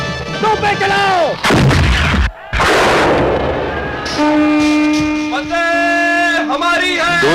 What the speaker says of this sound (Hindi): तोपों के धमाकों से इतना धुआं उठ रहा था कि हाथ को हाथ नहीं सूझता